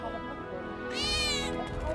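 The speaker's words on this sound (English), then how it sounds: "Did you hear that just now? I think one of Betty's cats might be nearby." A cat meows in Final Fantasy VII Remake, one drawn-out, high harmonic cry rising over steady game music and ambience, loud and close.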